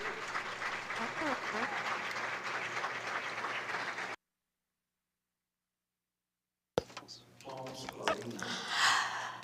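Audience applause at a lecture on self-control in a stressed society, a clapping crowd for about four seconds before a sudden cut to silence, then resuming with voices and room noise.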